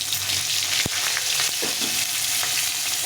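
Slit green chillies fry in hot oil for a tengra fish curry, giving a steady, close hiss with a few sharp pops and light clicks of a utensil.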